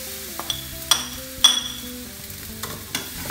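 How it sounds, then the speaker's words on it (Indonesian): Cooked rice for vegan nasi goreng is stirred through seasoning in a hot pan, with a soft sizzle and a few scraping clinks of the utensil against the pan. A steady tone runs underneath. "Aduk nasi hingga bumbu merata"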